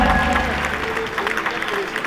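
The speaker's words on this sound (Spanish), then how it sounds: "Fuerte el aplauso," Concert audience in Potosí applauding, a dense crackle of clapping that continues with a voice speaking over it.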